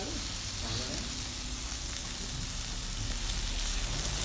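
Tomato pieces hitting a hot frying pan set off a loud, continuous close-up sizzle with faint stirring scrapes, and the crackle holds steady throughout.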